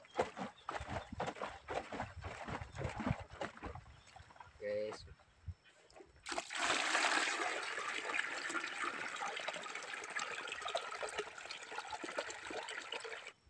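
A bottle of liquid chilli fertilizer mixture being shaken to mix it, rapid rhythmic sloshing followed by a long steady pour or gush of liquid, with brief talk in the middle.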